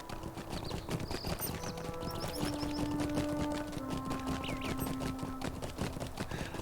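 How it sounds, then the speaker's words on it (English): Horse hooves clip-clop steadily in the fantasy online game Lord of the Rings Online, a continuous riding rhythm close up, layered under game music and ambient effects, with no talking. "I thought that you had to wait until level 7 to get a horse."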